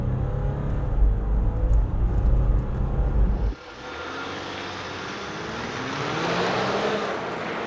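A 2020 Ram 1500 Rebel quad cab 4x4 EcoDiesel V6 pickup launches without launch control, a loud low engine drone that drops away and is replaced by rising engine and road roar as it accelerates.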